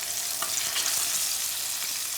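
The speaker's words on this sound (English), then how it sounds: "So I'm basically going to pop this in the frying pan now." Fish fries in a home frying pan with a steady, dense sizzle and crackle that holds close and even throughout, with no voices.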